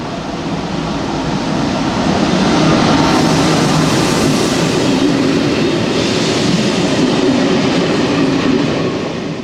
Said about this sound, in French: 4372 en provenance de Lyon-Perrache et à destination de Strasbourg, départ 9h30, va entrer en gare, voie A